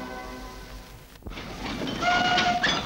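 A freight train runs on rails with road-rail semi-trailers riding as wagons, a steady rolling rumble that rises and grows louder partway through, with high squeals near the end.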